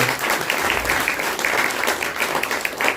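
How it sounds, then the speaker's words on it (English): A round of applause from an audience at a talk session, dense continuous clapping at moderate loudness with no voices over it. "let's give a round of applause"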